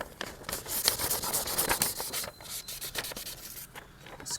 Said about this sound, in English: I will sand the other parts also where the paint will be holding